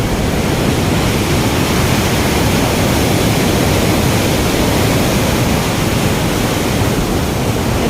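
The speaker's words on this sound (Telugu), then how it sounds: "దగ్గరికి వచ్చిన చూసిరు కదా, ఒకసారి ఆ నీళ్ళు ఎట్లా పోతున్నాయి చూడరు ఒకసారి." Water from Ranganayaka Sagar reservoir roars out in a loud, constant, dense rush close by, an unbroken wall of noise with no pauses.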